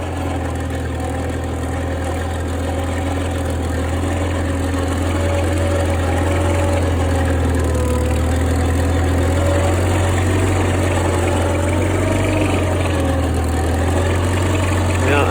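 The engine of a Cub Lo Boy 154 tractor runs steadily outdoors while climbing a ravine, a constant low chugging hum throughout, near and moderately loud, with a person talking over it.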